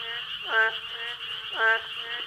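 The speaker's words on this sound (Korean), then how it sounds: "이건 요즘 한참 많이 노래하는 개구리이죠" A boreal digging frog calls twice in a steady rhythm, each call a loud, close, nasal croak standing alone over a constant high insect-like background drone.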